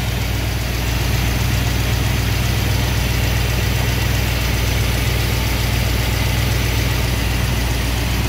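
A car engine idles steadily during an ignition timing check, set to 20 degrees initial advance, giving a loud, even, close rumble with a fast regular pulse and no talk.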